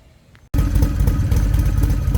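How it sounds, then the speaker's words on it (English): Harley-Davidson XR1200 motorcycle with a Free Spirits style intake, idling: after a quiet half second the engine cuts in loud and close with a steady, lumpy low thumping rumble that continues to the end, no speech. "That's the whole engine doing that little thump right there."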